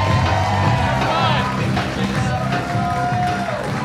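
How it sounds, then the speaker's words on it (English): Comedy club audience cheering and whooping as a comedian is introduced, a dense crowd roar with scattered shouts, while a voice speaks over it. "Folks, let her know with a big round of applause."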